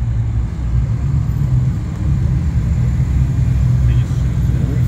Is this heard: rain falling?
no